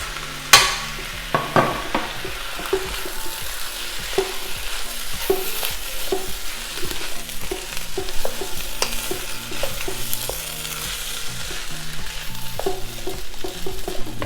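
Shrimp stir-fry in a pan with soy sauce for homemade fried rice, a continuous sizzle broken by frequent scraping and clacking of a utensil against the pan, one sharp knock near the start.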